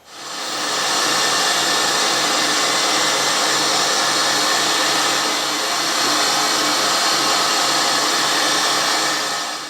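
A small magazine filler piece for a miniature M1911 is machined down to size: a loud, continuous broadband whir of the machine runs steadily throughout, close and without speech.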